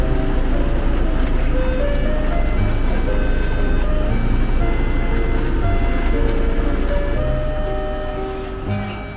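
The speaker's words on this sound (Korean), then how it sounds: "아이스크림 자동차를 보면 절대 그냥 지나치면 안 됩니다." A Hong Kong ice cream truck plays its loud, looping chime tune over an idling engine nearby, the melody repeating steadily and fading slightly toward the end.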